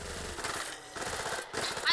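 Rapid automatic gunfire in a zombie shooter game, several guns firing together in dense bursts, loud and continuous with game sounds and a voice mixed in.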